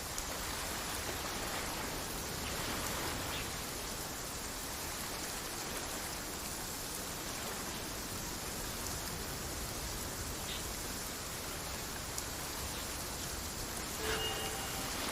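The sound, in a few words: rain falling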